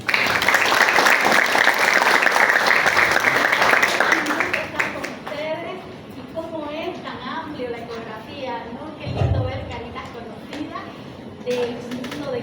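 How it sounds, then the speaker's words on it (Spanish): Audience applause for a doctor at a medical conference session, dense clapping for about four seconds, then fading into scattered claps while a voice speaks over it. "recibamos nuevamente con un fuerte aplauso a la doctora Lorena Urioste"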